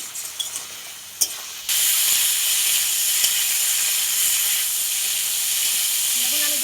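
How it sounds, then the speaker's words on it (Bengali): Figs frying in a pan, a loud steady sizzle and hiss that starts suddenly after a few soft clicks and carries on evenly, close by. "দেখুন আমি ডুমুরটা কত সুন্দর করে ভেজে নিয়েছি।"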